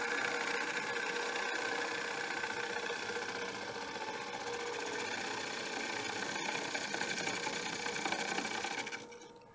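A wood lathe hums steadily while a tool cuts a platter and shavings peel away, adding a continuous rough, scraping hiss. The sound is close, holds at an even level for several seconds and then fades out, with no talking.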